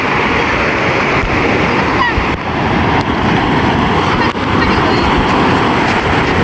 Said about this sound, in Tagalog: Malaki pa rin yung alon, no?